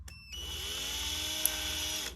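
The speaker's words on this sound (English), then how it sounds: "drill those rivets out" A power drill bores out the rivets of a Hot Wheels die-cast toy car, a steady high whine running continuously after a brief start, close and alone.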